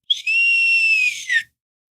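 A single slide whistle note, bright and close, holding a wavering pitch for about a second before sliding down and cutting off.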